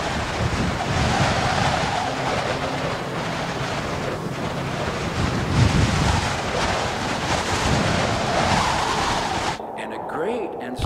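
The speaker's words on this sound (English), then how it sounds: "Strong wind was rending the mountains and breaking in pieces the rocks before Yahweh" A strong, rushing wind effect for a narrated Bible story, where the wind rends mountains and breaks rocks. It sounds as a loud, steady roar that fills the whole stretch and then drops off abruptly near the end.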